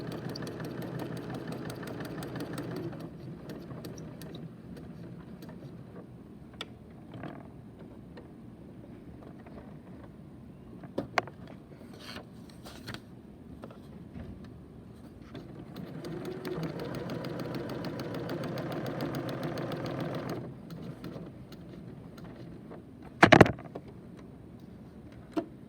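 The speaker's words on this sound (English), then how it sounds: "Put my needle down, bring up my presser foot, stitch across the bottom." A sewing machine stitches across the bottom of a t-shirt in two steady runs of whirring with a quieter pause between, and a sharp clack near the end.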